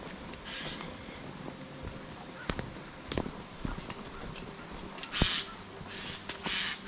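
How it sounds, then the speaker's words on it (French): Outdoor birdsong around Mazères with blue tits and great tits nearby, scattered chirps and calls over a steady background, a few sharper calls standing out near the end, no talking. "Je laisse écouter les oiseaux."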